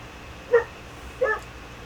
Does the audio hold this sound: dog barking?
yes